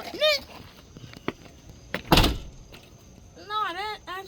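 A door bangs shut once, a loud, close thud in the middle, with voices heard before and after it.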